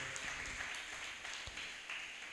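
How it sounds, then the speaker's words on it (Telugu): A church congregation claps hands together during a sermon, a faint, distant, steady patter of applause lasting the whole moment. "చప్పట్లు కొట్టి దేవుని నామాన్ని గణపరుద్దాం"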